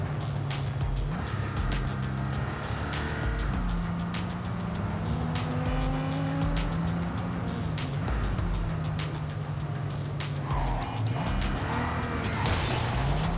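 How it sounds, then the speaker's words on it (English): A car driven through traffic in the Cyberpunk 2077 video game, engine tone rising and falling through gear shifts, with brief tire squeals and bumps, steady and close throughout. "This car's got decent handling though."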